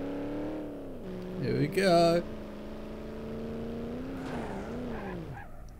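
A car driving straight across grass in the video game BeamNG.Drive, with a steady engine drone that rises and falls and a brief burst of tire squeal, while someone talks over it.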